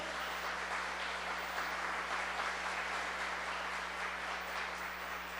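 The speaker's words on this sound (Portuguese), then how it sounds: "Dá uma salva de palmas para Jesus" A church congregation applauds steadily for several seconds, a continuous, fairly even wash of clapping over a low electrical hum.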